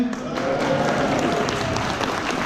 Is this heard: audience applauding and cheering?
yes